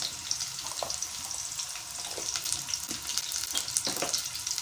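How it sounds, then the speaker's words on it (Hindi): Chopped onion and half a teaspoon of white cumin seeds sizzle and crackle in hot oil, a steady close frying hiss with occasional sharper pops and stirring scrapes, no voices. "अब मैं इसमें डालूँगी छोटी सी प्याज और थोड़ा सा हाफ टी स्पून ज़ीरा"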